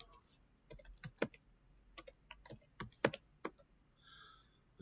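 Keys clatter on a computer keyboard while editing in a Linux text editor, an uneven burst of close, sharp clicks with short pauses, ending in a brief soft tone.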